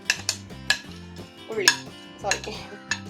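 Shredded chicken tossed with cabbage, onion and tomato in a bowl for pocket shawarma: a series of light spoon clinks and taps against the bowl, over background music.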